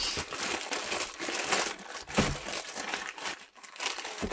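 Crinkly plastic packaging being handled and opened up close, a steady dense rustle and crackle running throughout with a brief dip near the end, no voices.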